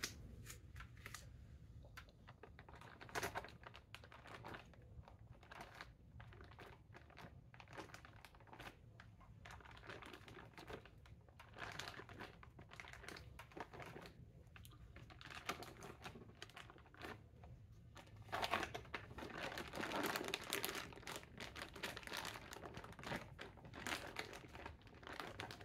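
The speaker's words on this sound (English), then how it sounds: "we'll just go ahead and take another piece of paper tape" Paper tape torn from a roll and pressed over a hole in a mushroom grow bag, faint crinkling, tearing and tapping in quick irregular bursts, quiet and close with no talking.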